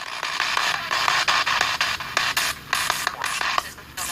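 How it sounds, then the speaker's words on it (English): Static and faint radio-station signals from a ghost-hunting radio sweeping through frequencies, giving steady hiss broken by rapid, choppy bursts and clicks. "What you're hearing is likely the faint signals from a radio station with the DJ"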